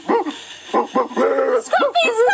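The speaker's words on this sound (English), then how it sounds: "stop barking at that bush" Small dog barking at a bush outdoors, a quick series of close, loud yips and barks with whiny tones, several sharp bursts in rapid succession.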